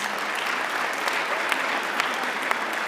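Sustained audience applause at a launch event for technologies for people with disabilities, honouring the designers of those technologies; dense, steady clapping from a crowd holds for the full stretch, with a few sharper individual claps standing out.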